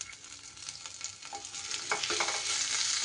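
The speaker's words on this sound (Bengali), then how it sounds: "দিয়ে দিচ্ছি একটু সামান্য গ্রেট করা আদা" Grated ginger frying in rice bran oil over tempered cumin seeds in a pan, a quiet, steady sizzle with light stirring scrapes, heard alone without any talking.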